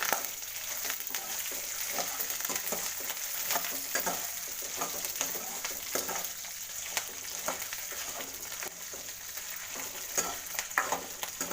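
Urad dal and cumin fry in a pan for a Karnataka-style cucumber sambar, a soft steady crackle with frequent light taps and stirs, close but fairly quiet, no voices.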